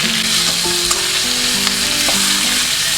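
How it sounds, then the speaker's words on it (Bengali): Catla fish heads fry in oil with a steady, loud broadband sizzle and crackle. Soft clinks and a few short tonal notes rise over the hiss, and no one speaks. "মাছের মাথাগুলো আমি লাল লাল করে ভেজে নেব।"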